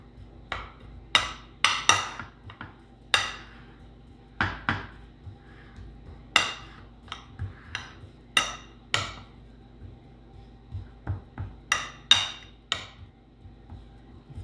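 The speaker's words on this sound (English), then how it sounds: "I'm gonna use my spoon to push it down so it's nice and even." A spoon pressing and tapping an apple oatmeal bake mixture down into a baking dish, a series of sharp clinks and knocks against the dish in irregular bursts, close and fairly loud with no talking.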